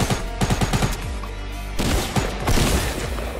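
Rapid gunfire from a weapon in Fortnite: a fast string of close, punchy shots, a pause, then more bursts and heavier impacts, loud and without talk.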